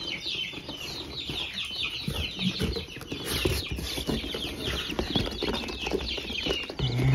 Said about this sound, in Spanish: Son pollitos de raza ponedora, amigos